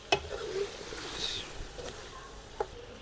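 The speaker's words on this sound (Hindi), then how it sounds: "लहसुन की अच्छी तरह बुनाई हो चुकी है।" Garlic frying in a pan for a desi aloo korma gives a soft, quiet sizzle, with a few light clicks and stirring scrapes scattered across it.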